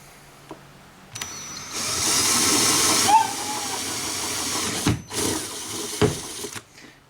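A drill spins forward through the thin fiberglass hull of a Yamaha FXHO WaveRunner, a loud hissing, whirring cut that holds for a few seconds, then breaks into short bursts and clunks before stopping.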